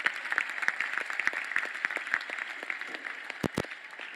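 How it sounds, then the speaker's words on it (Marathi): A crowd at a public event applauds students after their performance, sustained clapping with a faint background tone and two sharp thumps near the end. "जरा जोरदार त्या विद्यार्थ्यांसाठी टाळ्या वाजवा."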